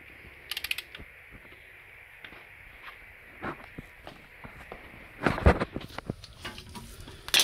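Torque wrench set to 17 newtons tightening a fastener on a Renault Megane, heard as scattered clicks and ratcheting taps that build into a louder burst of clicks near the end, with no talk.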